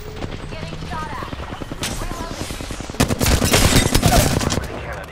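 Rapid automatic gunfire in the shooter game Apex Legends, with bursts of shots that grow louder and denser toward the end, mixed with game sounds and a voice speaking.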